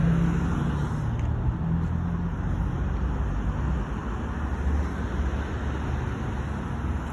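Dense roadway traffic streams past a pedestrian waiting at the roadside, a steady loud rumble of many cars and buses with no gaps, drifting slightly quieter toward the end.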